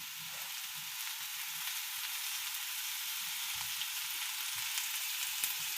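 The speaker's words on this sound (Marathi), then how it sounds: "आणि ह्या तेलामध्ये हा कांदा आता भाजून घ्यायचा आहे।" Onion frying in a little oil, heard as a steady, soft hiss of sizzling with faint low bumps of handling underneath, continuous and moderately quiet throughout.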